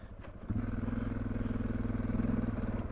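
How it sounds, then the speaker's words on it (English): A Suzuki DR650 dual-sport motorcycle climbs a steep, sandy hill in second gear, its engine note close and steady with a rhythmic thumping pulse that holds throughout after a quieter opening half-second. "DR just going right up it in second gear."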